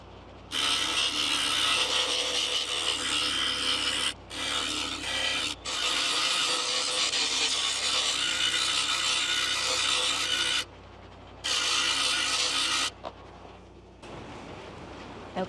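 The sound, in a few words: DIY lapidary tool polishing a silver pipe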